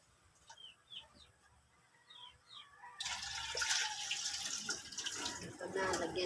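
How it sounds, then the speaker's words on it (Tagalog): Tap water runs steadily into a pot of rinsed rice being readied for cooking at home on a rainy evening, starting abruptly partway through, with a rooster clucking faintly nearby beforehand. "Ito na, lagyan natin ng tubig."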